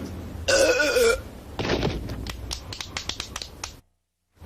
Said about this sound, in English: what did I say about burping? I said no burping.